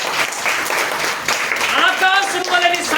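A church congregation claps loudly at a pastor's service in Vikarabad, a dense sustained applause running throughout with a voice and tonal sounds mixed in over it.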